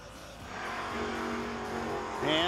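No-box drag race cars, a Maverick and a Mustang, rev and roar down the strip, a distant, building engine drone that rises into a louder high-pitched howl at the end, with no speech.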